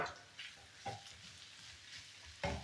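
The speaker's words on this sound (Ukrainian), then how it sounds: "От сюди висипаю дрібненько порізані, покришені огірочки" Finely chopped cucumbers tip into a pan of frying carrots and onion, giving a soft, steady sizzle with a couple of brief louder hisses as pieces land. It is quiet and close, and no one speaks.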